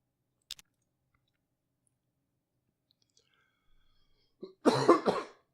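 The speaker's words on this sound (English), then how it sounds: "Sorry, there's me coughing again." A single harsh cough bursts out close to the microphone near the end, following a few faint clicks in otherwise quiet surroundings, during Master of Orion II gameplay.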